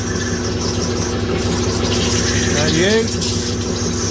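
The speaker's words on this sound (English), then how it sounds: "the Wazer is finishing up on its little 6-minute cut" A Wazer Pro waterjet cutter finishes cutting a metal gear, giving off a steady, loud pump-and-motor drone throughout, with someone talking over it.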